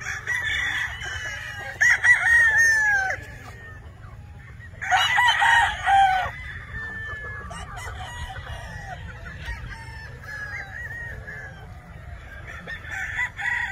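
Pumpkin Hatch gamefowl roosters crowing close by, with two loud, drawn-out crows a few seconds apart, softer clucking and distant crows in between, over a steady low background hum.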